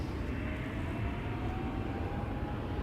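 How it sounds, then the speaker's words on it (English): Jet engines of a KLM Boeing 777-300 spool up for takeoff on a runway at Schiphol, a faint, distant low rumble with a thin rising whine. "Oh, I'm hearing something spool up. Something heavy. That would be the KLM 777-300 to Johannesburg."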